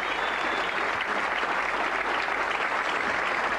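Crowd at a 1999 Brunswick tour bowling event in Vienna applauds a shot, steady dense clapping throughout, near and full, with no voices over it.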